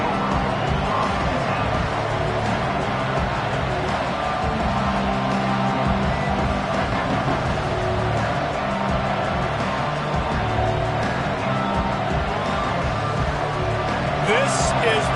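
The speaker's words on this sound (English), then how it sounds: "This crowd ready to make its presence known." A football stadium crowd keeps up a constant broad roar in the background while a commentator talks over it.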